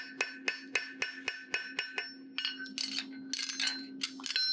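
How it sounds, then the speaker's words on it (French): Farrier shaping a horseshoe with the ball and then the flat face of a hammer on an anvil, a rhythmic series of sharp ringing metallic strikes, evenly spaced at first and then quicker, clustered ringing blows, close and clear. "Au début, je fais avec la boule, mais après, je peux finir avec le plat du marteau."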